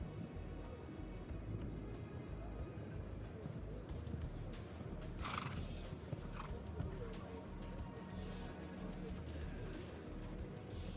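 Horse cantering in a dressage arena at a world breeding championship for five-year-olds, rhythmic hoof beats faint and distant under steady background noise, with a voice speaking at times.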